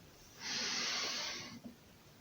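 One long inhale through the nose during a closing breathing exercise, a close, breathy hiss rising in under a second and ending with a soft snort.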